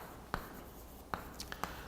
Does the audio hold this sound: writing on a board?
yes